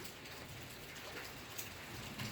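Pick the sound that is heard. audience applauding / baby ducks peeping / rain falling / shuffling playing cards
rain falling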